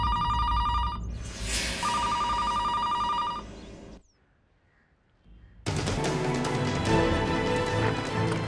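A telephone bell rings loudly in two rapid, trilling bursts, then stops into near silence before a loud, dense wash of other noise takes over.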